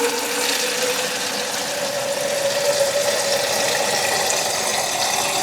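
Kitchen tap water runs steadily through a faucet filter and splashes into the sink, a constant close rushing hiss with no speech.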